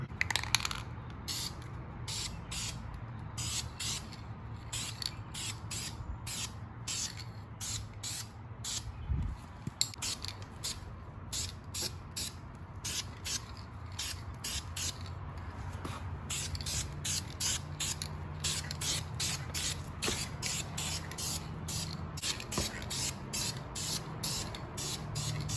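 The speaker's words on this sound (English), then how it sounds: "I can just go ahead and put the first coat of paint" An aerosol spray can lays the first coat of paint on a car's rear end, rapid short hissing bursts repeating steadily and close up over a low background hum.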